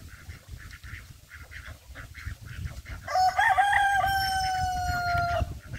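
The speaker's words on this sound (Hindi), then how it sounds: "ये देखिए, ये रहा बत्तख" A duck calls once, loud and close, with a harmonic quack-like cry drawn out over a couple of seconds, following a stretch of rhythmic low scuffling and farmyard noise at a market where ducks are being handed over.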